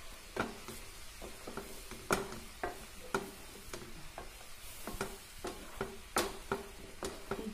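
Milk pudding mixture stirred in a pan with a spoon, giving regular close clicks and scrapes against the pan over a soft, continuous simmering hiss.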